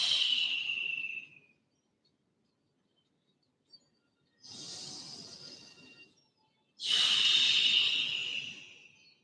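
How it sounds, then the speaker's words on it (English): Three long, deep breaths during a yoga flow, each a soft, airy rush close to the listener, separated by quiet pauses. The last breath is the loudest. "5 deep breaths"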